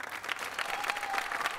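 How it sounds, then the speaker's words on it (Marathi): A studio audience at a Marathi comedy show breaks into brief, dense applause, many hands clapping together at moderate loudness. "जोरदार टाळ्या."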